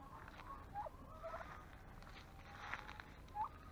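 Several turkeys gobble in short, rattling bursts, a few calls spread over a few seconds against a quiet outdoor background.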